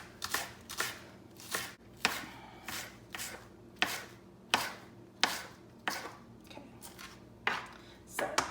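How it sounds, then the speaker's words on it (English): Knife chopping green onions on a cutting board, about a dozen crisp, evenly spaced strokes in a steady rhythm, close and clear, with no talking. "we're going to give them a good chop"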